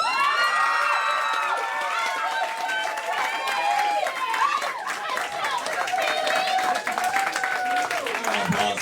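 A high school poetry slam audience cheers and applauds for a placing winner, a dense, continuous crowd of clapping, whoops and excited shouting voices.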